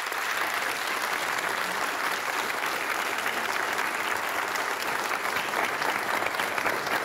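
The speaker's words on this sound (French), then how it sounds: "On peut leur faire un tonnerre d'applaudissements." A crowd at a village quiz show gives a long, even round of clapping, steady and full throughout with no voices rising above it.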